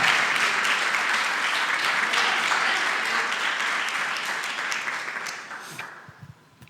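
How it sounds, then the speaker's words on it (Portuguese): A church congregation applauds loudly during a Portuguese-language worship service, with a dense, sustained wash of clapping that slowly thins and fades out near the end. "Você pode aplaudir a Deus por isso?"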